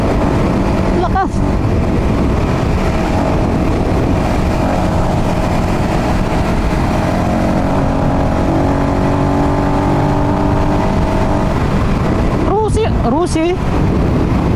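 A Rusi motorcycle with a sidecar runs hard at over 90, heard from a riding motorcycle. A continuous loud roar of engine and wind rush lasts throughout, with a few brief swooping tones near the end.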